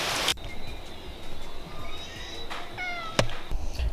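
A cat meows a few times at moderate distance, drawn-out calls over a steady outdoor hiss, with a sharp knock near the end.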